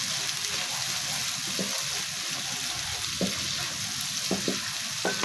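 Ginger garlic paste sizzles in hot oil while dal tadka is being made, a steady close frying hiss with a few faint clinks of a spoon or pot.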